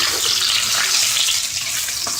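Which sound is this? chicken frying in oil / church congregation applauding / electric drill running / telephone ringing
chicken frying in oil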